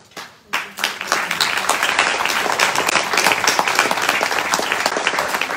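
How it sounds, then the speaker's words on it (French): Concert audience at a recital applauding, a sustained dense clatter of many hands that swells quickly after a brief start and stays loud throughout. "c'est un peu tôt encore hein, pour les applaudissements"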